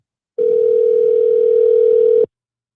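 A steady telephone tone heard through headphones during a call to a tech support line, one continuous tone lasting about two seconds, loud and alone, starting and stopping cleanly.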